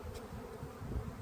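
Honey bees buzz around an open, large, healthy beehive, a dense low drone of many insects close by, continuous and unbroken for the whole moment.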